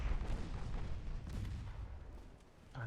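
Distant battleship guns booming in a naval strategy game set against Italy, a continuous rumble of low, rolling blasts with no speech.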